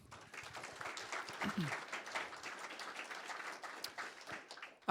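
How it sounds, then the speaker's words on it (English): Audience applause at the close of a conference session on sales practices, a fairly quiet spread of clapping from a room of attendees that swells slightly and keeps going steadily for several seconds. "One more round of applause."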